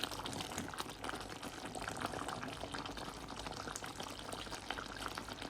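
Drumstick (murungakkai) curry simmers in a covered pan over a slow fire, giving a steady, close bubbling and sizzling hiss that stays even throughout with no voices.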